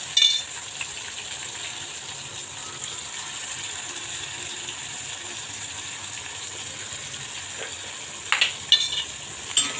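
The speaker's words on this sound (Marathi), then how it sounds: "आलं लसूण छान परतून घ्यायचं।" Tomato, curry leaves and ginger garlic paste frying in a pan for a bottle gourd kofta curry, a soft continuous sizzle with quiet stirring and a few louder scraping clinks near the end.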